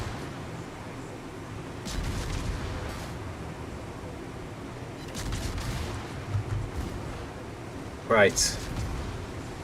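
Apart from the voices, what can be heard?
secondary battery gunfire in World of Warships video game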